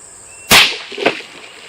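A .22 CCI Stinger round fired into a water jug: one sharp, loud crack, followed about half a second later by a softer burst of splash and spatter that quickly fades.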